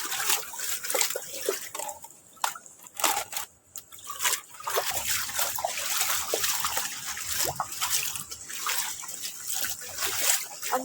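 Rainwater trickles and splashes steadily after heavy rain, strong wind and hail, a continuous close flow with irregular dribbling bursts and no speech.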